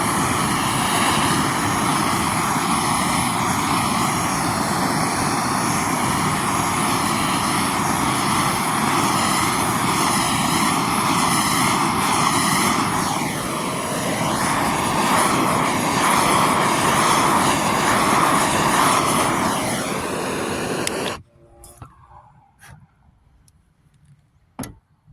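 A torch heats the rear hub of a 2006 Dodge Grand Caravan with a loud, steady, close roaring hiss that holds for about twenty seconds, then cuts off abruptly into near silence with a faint click.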